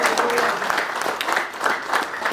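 Church congregation clapping their hands for God, a steady dense wash of applause throughout, fairly loud and close.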